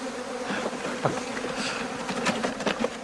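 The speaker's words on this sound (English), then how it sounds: "I'm going to wait for a local beekeeping expert to come and help me wrestle this swarm and get it into our Victorian cottage hive" A swarm of honeybees buzzes continuously at close range, a dense steady hum with individual insects passing near, no voices.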